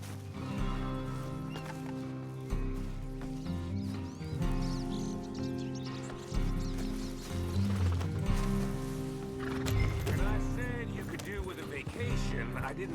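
A horse moves in Red Dead Redemption 2, with hoof clip-clop running beneath a steady layer of game music and ambient sound throughout.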